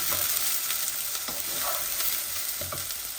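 Garlic and onion frying in a pan, a dense, continuous sizzle up close with a few light stirring scrapes mixed in, no voices present.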